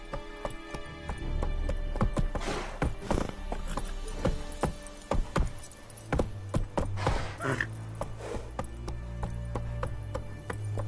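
Hooves of a horse galloping in The Witcher video game clip-clop in a quick, uneven rhythm, loud and close. A faint low drone sits underneath.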